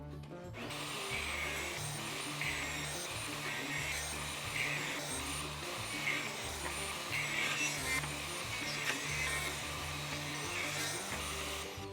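A table saw rips fence picket boards into 1 inch strips, a loud, close, steady whirring drone with a rhythmic pulsing as each board feeds through, continuing without pause.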